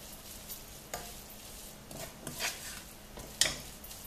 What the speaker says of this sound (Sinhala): චිලි පේස්ට් එකක් දාගන්න. ඒ රසනේම කලවම් කරගන්න.